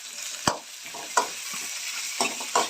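Chopped onion with curry leaves fries in a pan for sauce-free fried rice, a soft steady sizzle broken by a few sharp clattering stirs of the spatula, close by with no talking.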